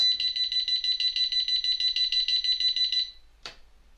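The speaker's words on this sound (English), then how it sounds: "So I pressed and held the button, and it turned the alarm off. Beeped fast to tell me I was doing it" An Arduino Uno alarm clock emits a rapid string of high electronic beeps for about three seconds while its button is held down, then falls silent apart from one short final chirp.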